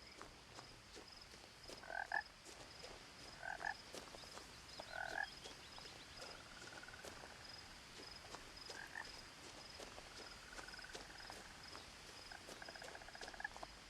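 Repeated toad croaks in the swamp of the video game What Remains of Edith Finch, short raspy calls every second or two over a faint insect-like ambient hum, moderately near and alone without talk.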